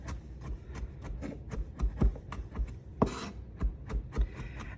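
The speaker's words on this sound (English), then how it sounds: "And then you're just gonna keep chopping in a rocking motion." A kitchen knife rocks through chopped vegetables on a wooden cutting board, giving close, irregular thuds and short scraping rasps in a steady chopping rhythm with no talking.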